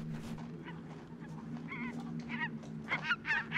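Large white birds, geese-like, calling on winter ice: several honking, nasal calls rising in the second half, some close and loud, over a steady low hum.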